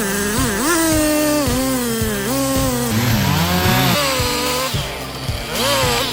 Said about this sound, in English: he took out the chainsaw and cut the wood into small pieces